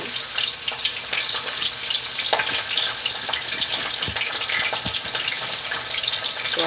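Fish frying in a pan at home, a steady crackling sizzle of hot oil with scattered pops and occasional clinks of a utensil, fairly close and continuous with no talking.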